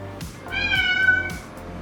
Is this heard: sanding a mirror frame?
no